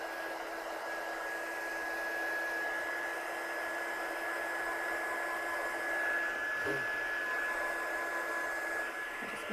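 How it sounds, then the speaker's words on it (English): A heat tool used to heat-set embossing powder blows continuously, a steady fan roar with a thin high whine, held at an even level throughout. "I'm just going to heat set this embossing powder."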